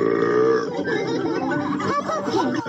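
A cartoon pig belch voiced as Peppa Pig, played through an Amazon Alexa smart speaker, a drawn-out rumbling burp that fills the whole moment at steady loudness, with a giggly, squealing quality near the end.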